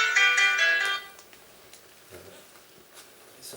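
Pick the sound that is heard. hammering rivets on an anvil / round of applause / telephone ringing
telephone ringing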